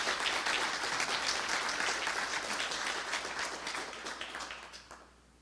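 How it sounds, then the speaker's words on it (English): Sustained applause from a conference audience, dense and steady clapping that fades out toward the end, with no talking over it. "Quick round of applause for them"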